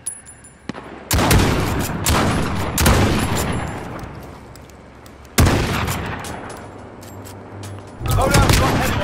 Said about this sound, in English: Oh, he set up a turret. There it goes.